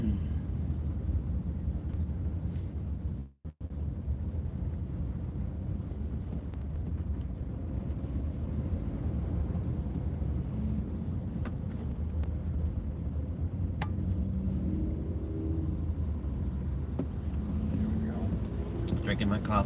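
A car driving along the 294 expressway, with steady low road and engine rumble and wind noise inside the cabin holding evenly throughout, plus a brief dropout early on.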